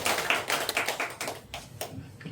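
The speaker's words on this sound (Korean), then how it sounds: "운동 배우고 싶으신 분은 박수 한번 주십시오" A small congregation at a church gathering claps in scattered, uneven bursts, individual sharp hand claps popping irregularly rather than forming a dense roar, fairly close and without talk.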